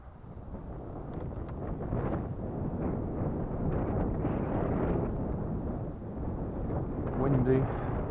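Strong wind buffets a microphone on a small quadcopter drone in flight, a steady, loud, rumbling roar of gusts across the whole stretch with brief swells.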